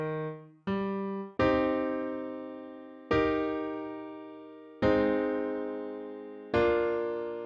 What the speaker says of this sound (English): Super simple chord progression like that.